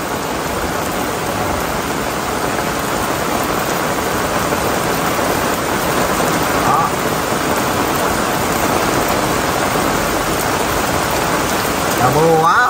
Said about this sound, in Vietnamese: Trời mưa quá rồi quý cô chú chị ơi, tầm tả luôn mấy anh em mình.